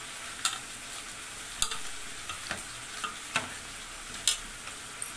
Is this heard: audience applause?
no